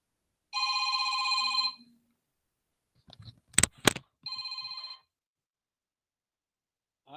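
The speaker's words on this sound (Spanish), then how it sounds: "Aguántenme un cachito que me está sonando el teléfono." A telephone rings twice in a quiet room, each burst a steady electronic trill of about a second, with a short stretch of handling noise and faint movement between the rings.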